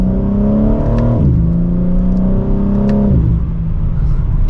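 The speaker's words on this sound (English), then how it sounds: "with it still in Sport Plus second gear" 2024 BMW M4 Competition accelerating in Sport Plus second gear, its engine note loud and close inside the cabin, rising steadily in pitch, then dropping twice with quick shifts before climbing again.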